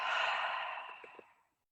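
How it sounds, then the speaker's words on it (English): A single long, deep exhale close to the mic, breathy and steady before fading out into quiet over about a second and a half. "Just take one deep breath in and a deep breath out."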